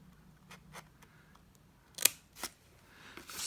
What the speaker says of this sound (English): So I'm cutting there and there